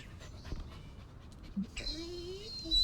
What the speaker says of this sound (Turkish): Sesi geldi köpeğin de.